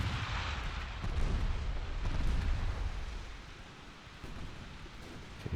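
Naval gunfire exchanged with a heavy cruiser in Ultimate Admiral Dreadnoughts, a dense rumbling roll of booming salvos that swells, eases off and then picks up again.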